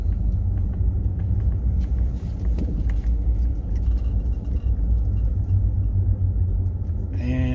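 A vehicle towing a trailer approaches, a heavy continuous low engine rumble that holds steady throughout, fairly loud and close.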